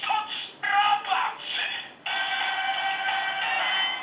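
Electronic Kamen Rider Ex-Aid Gashat toy playing its level 3 fighting-robot game sound, a bright synthesized burst of short chimes followed by a sustained mechanical, triumphant tone, heard close and on its own.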